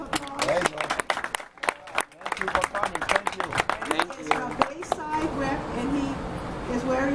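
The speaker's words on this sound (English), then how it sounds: "Let's give him a round of applause." A crowd claps for the mayor, loud, uneven clapping mixed with chatter and voices, including a child's, that swells and thins as it goes on.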